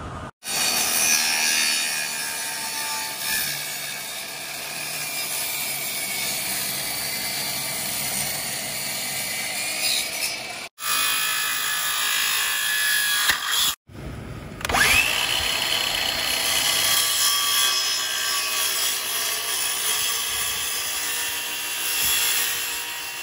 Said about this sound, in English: Cutting multiple slats in between the slats, that way we can just break them off in the end.